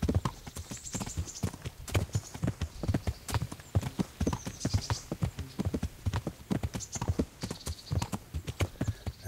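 Horse hooves pound in a fast, steady galloping rhythm in the video game Kingdom Come: Deliverance, close and clear, with no talking over them.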